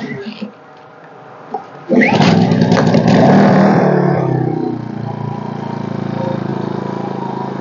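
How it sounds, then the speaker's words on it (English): A Senci inverter generator is kickstarted with a sudden loud burst, then settles into a steady close running drone, fairly loud and continuous. "let's kickstart the generator now"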